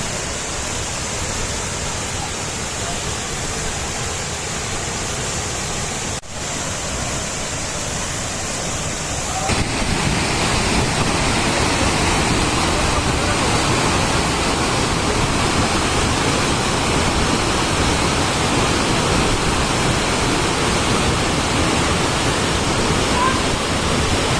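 Kansal Waterfalls in Mindanao pour with a steady, dense roar of rushing water, close and constant, swelling noticeably louder partway through.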